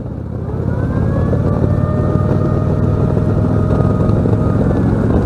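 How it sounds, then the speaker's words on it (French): A newly acquired motorcycle sounds its horn, a steady, sustained tone that rises in quickly and holds over a low engine rumble nearby. "Un petit coup de sirène."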